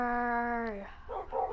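A tamed dog in Minecraft PlayStation 4 Edition gives a drawn-out, tonal whine that fades, followed by a couple of short, yippy bark-like bursts, fairly close and clear.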